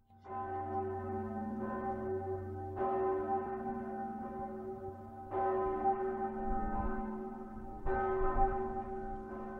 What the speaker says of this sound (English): Hear the tolling of the bells, iron bells.